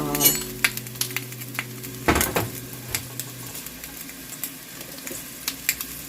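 Onion and garlic sautéed in a pot for Italian wedding soup: a steady low sizzle with scattered clinks and scrapes of a utensil stirring, plus a brief louder clatter partway through, no talk.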